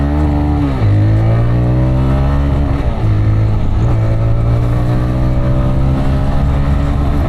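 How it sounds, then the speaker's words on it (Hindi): A TVS Raider 125 motorcycle launches in eco riding mode, its engine loud and close as it revs up in rising pitch sweeps, with brief dips at each gear change before climbing again. "सबसे पहले इको मोड पे बाइक को लॉन्च करते हैं।"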